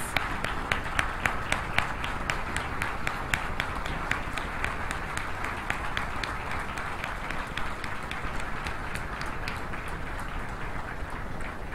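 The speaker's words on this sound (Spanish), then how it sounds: "los invito a ponernos de pie para darles un fuerte aplauso de agradecimiento" Standing crowd gives a long round of thankful applause honoring doctors at an inauguration ceremony, dense steady clapping with sharp individual claps throughout, loud and sustained without pause.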